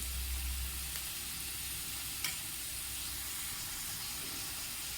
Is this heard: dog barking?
no